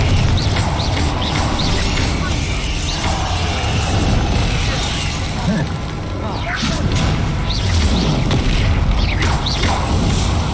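Spell blasts, explosions and whooshing impacts from the Hogwarts Legacy video game, a dense, loud, continuous barrage of booms and crashes with a voice calling out spell names over the combat.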